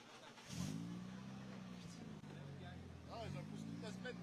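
At the finish of the Ronde de la Durance rally, a rally car engine fires up and revs in two rising bursts, close by and beneath people talking.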